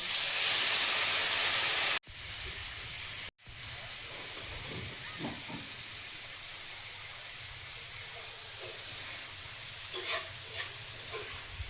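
Vegetables fry in a pan with cumin, coriander and turmeric, a steady hiss and sizzle that starts loud, breaks off twice, then continues softer with occasional stirring clinks.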